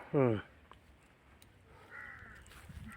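A single loud, harsh crow caw rings out close by, followed by faint background noise and a distant murmur of voices.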